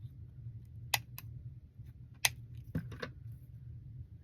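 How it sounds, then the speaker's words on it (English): Scissors snip off wire ends on a ribbon pick, giving a few sharp, close clicks and snips spaced apart over a quiet room background. "I'm just going to take my scissors and I'm just going to cut them off."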